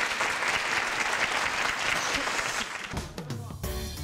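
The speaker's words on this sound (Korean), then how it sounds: "공정한 심사 부탁하는 의미에서 큰 박수 부탁드리겠습니다" Loud, dense audience applause fills a stage event at a Korean youth technology startup olympiad, steady for nearly three seconds before thinning out as the clapping fades.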